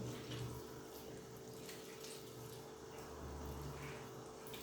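Water trickling and splashing as boiled pastry sheets for Turkish water börek are squeezed out by hand, a faint continuous wet sound close by.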